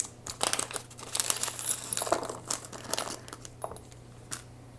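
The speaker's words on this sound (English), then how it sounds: "Lord, I can't open the bag." Crinkly plastic bag of small standoffs being squeezed and tugged while someone struggles to open it, a run of close, irregular rustles and crackles with a steady low hum underneath.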